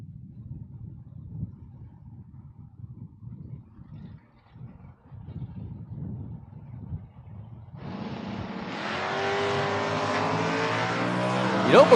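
Drag race between a Camaro and a Monte Carlo: a low idling rumble, then a sudden loud, roaring launch as the cars take off and hold a sustained, harsh engine blare.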